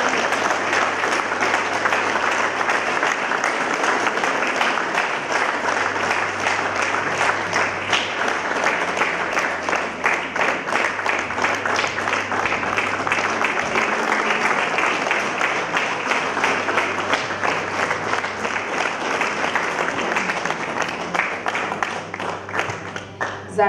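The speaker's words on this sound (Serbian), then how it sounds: "Zaista zasluženi aplauz" Sustained audience applause at a travelling documentary film festival screening in Osečina, dense and loud clapping that continues steadily for over twenty seconds with little change in strength.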